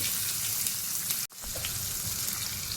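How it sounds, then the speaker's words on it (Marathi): Large chunks of ginger and dried red chillies sizzle in hot oil with cumin for a Konkani dal pakwan. A dense, steady frying hiss holds close and loud, with one abrupt momentary dropout partway through. "इकडे अद्रक घेतलेलं आहे मी अद्रक टाकते मोठ्या मोठ्या खापी केलेले आहेत मोठी मिरची टाकते सुकी मिरची टाकते"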